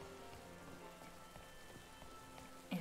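Rain falling in the Pokémon Scarlet video game, a steady faint patter of raindrops that runs throughout alongside soft game background sound, with a brief louder bump at the very end.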